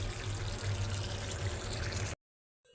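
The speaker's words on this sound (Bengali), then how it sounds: "শাকটা ধুইতেছি" A tap runs steadily while leafy greens are washed, a close, even gush of water for about two seconds before cutting off abruptly, with no talking.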